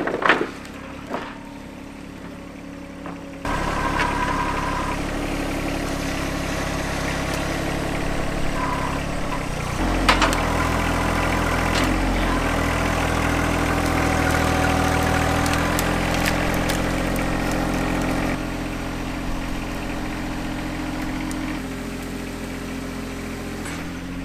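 A tractor's engine runs steadily for a long stretch, a low droning idle-like hum with brief clanks and shifts in load, near and fairly loud, with no talking.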